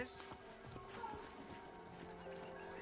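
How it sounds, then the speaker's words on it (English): A horse's hooves clip-clop at a steady walking rhythm in Assassin's Creed Origins, faint under game sounds and a voice talking. "Mount a horse as William Miles."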